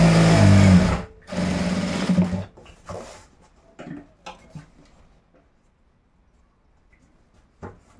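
A sewing machine runs in loud, fast bursts while stitching a two-inch folded hem on a pair of boys' shorts, followed by quieter handling of the fabric and a few soft clicks.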